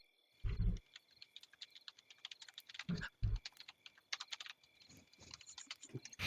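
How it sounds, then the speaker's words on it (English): Rapid keyboard typing with irregular bursts of clicky keystrokes, close and fairly quiet, broken by a few low thumps; no voices. "Keyboard noises from the crash."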